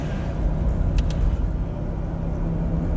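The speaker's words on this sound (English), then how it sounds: "Today I'm going to take the Fiat to work in the office in Manchester." A 1970 Fiat 500F classic car driving on a commute in Manchester: a steady low engine rumble and road drone, close and continuous, with a couple of brief higher squeaks partway through and no talk.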